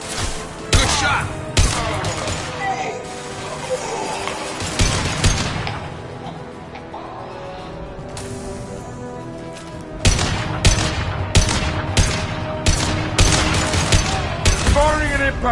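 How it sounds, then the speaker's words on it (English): Bursts of game gunfire from Mass Effect 2 Legendary Edition on Omega, with rapid rattling volleys and heavy thudding impacts, dense at the start and resuming loudly after a brief calmer stretch, layered with in-game voices. "Firing an impact shot!"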